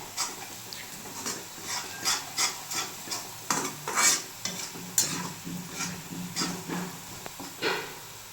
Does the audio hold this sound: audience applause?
no